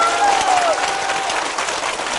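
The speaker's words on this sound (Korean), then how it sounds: "박수 한번 칩시다" Dense audience applause fills a lecture hall at a Saturday talk, steady and loud throughout, with a brief whistle-like tone near the start.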